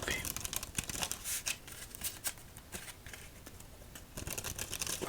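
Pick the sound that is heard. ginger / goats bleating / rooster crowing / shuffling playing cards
shuffling playing cards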